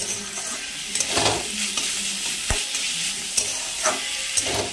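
Raw green banana curry with poppy seed, mustard and green chilli paste being stirred and fried in a pan, a loud continuous sizzle broken by scraping strokes and a few sharp utensil clinks, with no voices.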